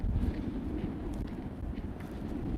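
Wind buffets an outdoor microphone with a steady low roar and rumble, continuous and fairly loud, with no voice over it.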